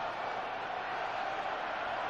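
A large football stadium crowd at a Steelers home game against the Bengals roars steadily in a broad, continuous wash of cheering, loud and sustained without a break.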